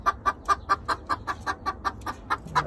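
Chickens, a hen with a young rooster, give a quick regular run of about a dozen clucks close by, evenly spaced and fairly loud, with no talk over them.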